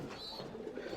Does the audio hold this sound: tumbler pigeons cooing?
yes